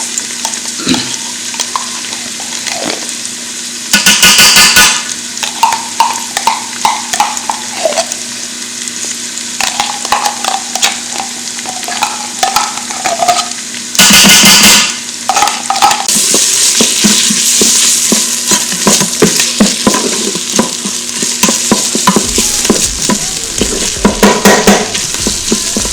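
Tomato paste sizzles in a hot pan while being stirred for a vegan lasagna sauce, a continuous frying hiss broken by scraping utensil strokes and a few sharp bursts of louder spattering, close and without talk.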